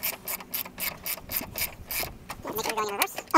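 A ratchet loosening 10mm bolts on a Mitsubishi Eclipse headlight, with a run of quick, close, crisp pawl clicks in a steady rhythm, then a few faster ratcheting strokes.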